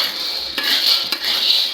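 Turi beans dry-roast in a metal pan as a utensil scrapes and stirs them, giving a bright, close clatter with two sharper knocks, and no voices.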